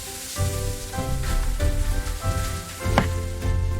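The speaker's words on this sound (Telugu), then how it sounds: "ఈలోపు మనం ఆనియన్స్ ఫ్రై చేసుకుందాం" Onions fry in a pan with a close, continuous sizzle, broken by a few sharp spattering pops and stirring sounds over a steady low background tone.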